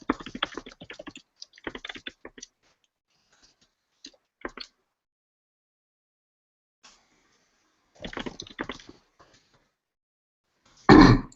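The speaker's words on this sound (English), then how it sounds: "I'm going to mute myself because I'm typing." Bursts of typing on a computer keyboard during an online meeting: quick clusters of close key clicks separated by long silences, ending in a louder clattering burst.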